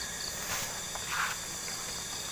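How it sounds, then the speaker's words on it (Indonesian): Crickets chirp in a steady, faint shrill drone near rice fields at night, with a few louder chirps rising briefly above the constant background. "Banyak juga ya, suara jangkrik atau hewan-hewan di sawah lah."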